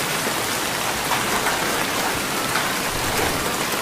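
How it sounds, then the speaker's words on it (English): Steady, dense rain hisses evenly in a cartoon scene, a broad wash of falling drops with no pauses and no other sounds over it. "started to rain."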